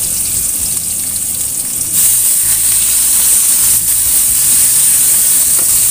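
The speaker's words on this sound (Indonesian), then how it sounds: "Goreng terlebih dahulu bawang merah atau bawang bombay ya" Shallots or onions fry in a hot pan with a loud, steady sizzle and hiss that swells and continues evenly, close and without talk.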